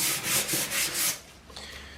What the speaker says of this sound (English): I got to sand this guy up.